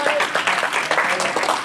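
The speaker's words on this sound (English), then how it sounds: "That ought to give you a hand clap or something." A church congregation bursts into sustained, dense applause and clapping that fills the room, with voices mixed in under the clapping.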